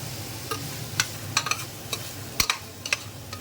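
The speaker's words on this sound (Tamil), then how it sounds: "எல்லாமே சேர்ந்து நல்லா வதங்கணும். கோல்டன் ப்ரௌன் ஆகிற அளவுக்கு வதங்கிட்டு" Ingredients for chicken biryani sauté in a pan until golden brown, giving a soft, steady sizzle. A spoon scrapes and stirs through it in sharp clicks every half second or so, close by, with no talking.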